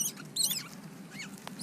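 Short high chirps and squeaks from a squirrel, a few brief calls in quick succession over a faint background hum.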